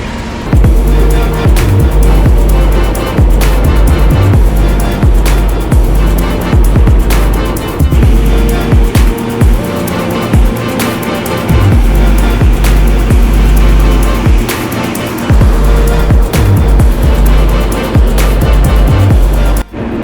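A tractor engine runs steadily with a sprayer tank mixer switched on while spraying fruit trees in Spain, a loud continuous mechanical drone with rumbling low end and churning clatter throughout.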